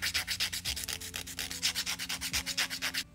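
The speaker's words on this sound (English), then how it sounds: "I'm also going to use this to file the surface of the nail as well." A grit hand file scrapes across fingernails, shaping and smoothing their surface during a dip powder manicure: rapid, evenly paced back-and-forth strokes, about eight per second, close up and steady with no talking.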